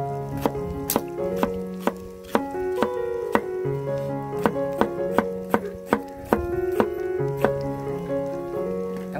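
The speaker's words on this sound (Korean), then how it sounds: "일단은 양파를 썰어 주고요" A knife chops onion on a cutting board in a run of regular, crisp taps, heard under steady melodic background music with no talking.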